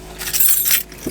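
Keys jangle in a brief metallic clink and rattle, a short close burst lasting about a second with no voice over it.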